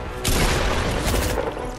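Gunfire erupts in Fortnite Battle Royale: a loud, sudden blast kicks in early and rolls on as a dense, booming burst that lasts nearly two seconds, close and heavy, with no talk over it.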